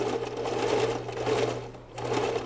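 A sewing machine stitching along a zipper with flaps, passing the bulky zipper pull, its motor whirring loud and close in a steady run that slows for a moment before picking up again.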